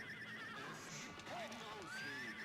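A horse in the arcade game Rastan Saga III whinnies in a rising and falling neigh, with galloping clip-clop and game music, while someone talks over it.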